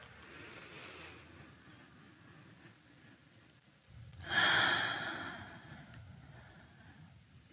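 A single long, deep breath during a guided meditation, quiet at first and then a loud, airy exhale close to the mic that fades slowly.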